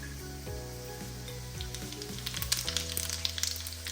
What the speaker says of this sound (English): I'm going to add the cumin seeds